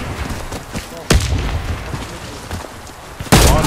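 Two heavy grenade blasts in a Warface clan war match, a booming burst about a second in and another near the end, set against steady gunfire and players chattering over voice chat.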